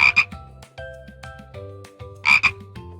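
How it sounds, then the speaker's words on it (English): A tree frog croaks in a jungle setting, two bursts of loud, close raspy calls at the start and again near the end, alone with no voices. "It's a tree frog."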